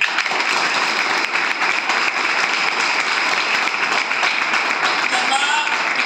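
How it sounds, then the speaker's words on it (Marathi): A crowd of students at a school farewell gathering claps loudly for their teachers, a dense, sustained roar of applause that holds steady throughout. "त्यांच्यासाठी सर्वप्रथम सगळ्यांनी एकदम जोरदार टाळ्या वाजवायच्या."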